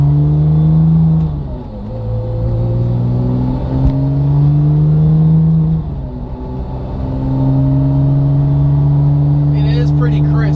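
A Porsche 997 Turbo fitted with a new numeric shifter pulls through its gears while driving, the engine drone building loudly and then dipping at each of three upshifts.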